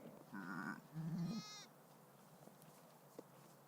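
A sheep bleats twice in quick succession, a wavering nasal call followed by a second rising one, fairly close and clear over a quiet indoor room tone, with faint scattered clicks afterward.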